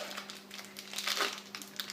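A Japanese snack package being opened, giving a near, continuous crinkling and rustling of plastic wrapper for about two seconds that swells louder midway.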